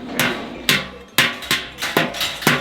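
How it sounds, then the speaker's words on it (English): Repeated sharp metallic hammer blows on copper in a Moroccan copper market, ringing out at a steady, unhurried pace, about six strikes, loud and nearby. "So you can hear all this loud banging behind me."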